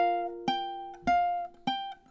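Ukulele strumming measure 11 of a song, four bright strummed chords spaced evenly with ringing sustain between them, close and clear with no voice.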